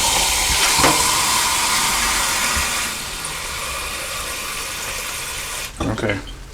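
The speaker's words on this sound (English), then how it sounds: "now I'm going to start by adding 2 cups of water" Water from a measuring cup is poured into a pressure cooker while goulash is being made, a steady splashing gush that eases off after a few seconds, with a short clatter near the end.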